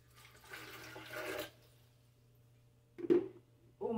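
Water pours into a blender jar over sliced bananas for a banana and papaya smoothie, a soft splashing stream of about a second, followed by a couple of short knocks and clatters.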